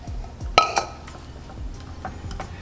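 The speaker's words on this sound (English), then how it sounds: "I'm going to mix that up." Cauliflower pizza crust ingredients being mixed in a bowl, with a few clinks of a utensil against the bowl and soft stirring scrapes, close and fairly quiet.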